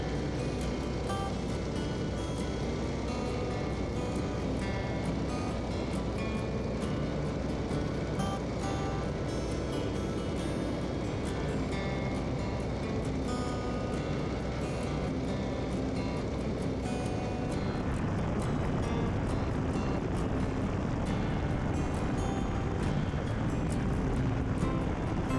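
A Stearman biplane engine drones steadily during open cockpit flight, producing a loud, constant roar mixed with rushing wind that continues unbroken throughout with no speech.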